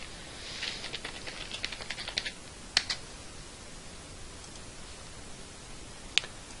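Computer keyboard typing in a quiet room: a short run of soft, rapid key taps, then a few isolated sharper key presses spaced out over several seconds, close and fairly faint.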